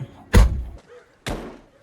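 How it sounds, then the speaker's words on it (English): Two heavy, close thuds of an Acura TL car door slamming shut, about a second apart, the first louder and deeper. "You're slamming my door like some kind of grill on a football field."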